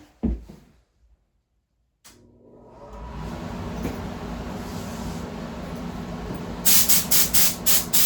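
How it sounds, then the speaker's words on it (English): A steady, loud broadband whoosh of a fan starts up after a quiet pause and keeps droning, with a few sharp rattling bursts near the end. "I'm going to turn up the fan. It's going to get noisy."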